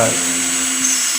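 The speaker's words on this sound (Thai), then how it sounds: "ฝาครอบ PVC สี่หุ่นนะครับไปเจาะรูนะครับ" A power drill bores into a half-inch PVC end cap, a steady, close high-pitched whine held through the short moment with no speech over it.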